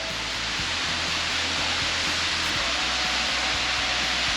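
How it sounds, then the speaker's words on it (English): A waterfall on the Great Ocean Road in Victoria, Australia, gives a steady, dense roar of falling water that fills the whole stretch without a break. "Pretty nice looking waterfall."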